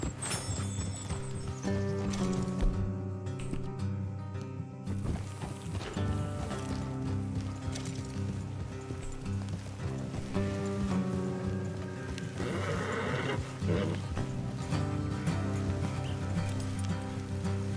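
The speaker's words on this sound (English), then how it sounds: "Let's leave the horses here and go the rest on foot." Horses in the video game Red Dead Redemption walk with soft clip-clop hooves and an occasional whinny, mixed under a steady game soundtrack and ambient rain throughout.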